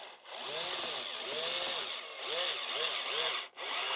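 Power drill driving screws into wood while building a small table, a steady whirring motor with several short rising-and-falling bursts as each screw is driven, close and moderately quiet.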